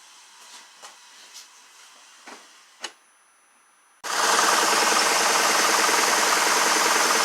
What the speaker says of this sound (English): we got it started back up and it's still misfiring